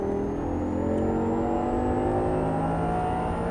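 Audi R8 V10 on a Las Vegas driving course, its engine revving hard under full throttle with a steady, loud rising drone and layered harmonics, close and continuous throughout.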